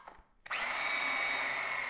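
A food processor whirs loudly as it blends hummus of chickpeas and tahini, starting abruptly after a soft clatter and then holding a steady, dense motor roar close up.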